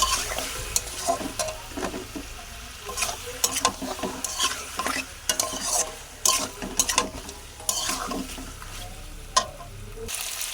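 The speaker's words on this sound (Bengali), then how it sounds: "দেবো ধনের গুঁড়ো, দিয়ে ভালো করে মাংসটা কষে নেব" Chicken stir-fried with cumin and coriander powder in a little oil for a spicy chicken dish, with repeated scraping spatula strokes and clinks over a moderate, crackling sizzle.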